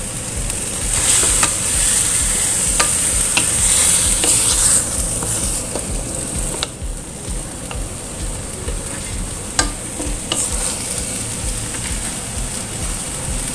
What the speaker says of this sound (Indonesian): Aduk semuanya menjadi satu. Lalu kemudian tahu kempong ya.